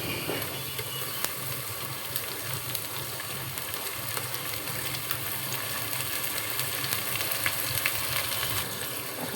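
Onion paste fried in a pan with pepper, clove and mace for chicken korma gives a steady, close sizzle, with soft stirring scrapes mixed in all the way through.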